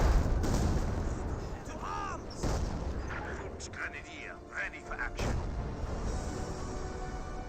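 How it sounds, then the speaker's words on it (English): Mortar fire and shell impacts from the Company of Heroes 2 war strategy game rumble under a steady bed of battlefield noise, with booms and whistling rounds throughout and a voice talking over it. "That was all from mortars."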